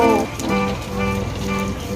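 Rain falling at an early-morning market in Bang Sare, a steady close patter with tonal background hum from the surroundings.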